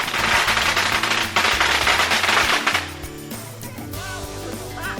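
Independence Day firecrackers crackle in a dense, loud rapid-fire burst for nearly three seconds, then smaller pops and crackling continue more faintly, with no talk over them.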